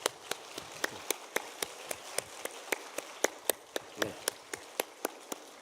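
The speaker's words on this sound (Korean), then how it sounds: "우리 뜨거운 박수로 환영하겠습니다" A congregation at a church worship service claps steadily in a room to welcome a guest, individual hand claps blending into a continuous patter with sharper claps standing out.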